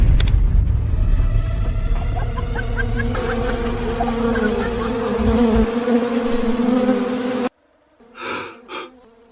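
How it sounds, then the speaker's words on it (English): A dense swarm of wasps drones steadily for several seconds, a loud layered buzz that cuts off abruptly, followed by a couple of brief faint hums. "The wasps really are here."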